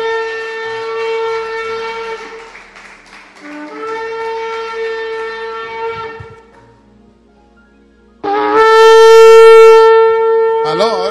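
A shofar is blown in long, bright, brassy blasts. A sustained note is followed by a pause, then another long blast, and after a brief gap a louder, higher call ending in a wavering tail.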